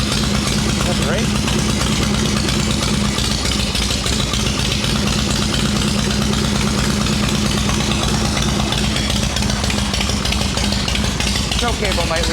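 A Shovelhead chopper motorcycle idles after its first start following winter, a loud, close, rough lumpy engine rumble that runs continuously the whole time.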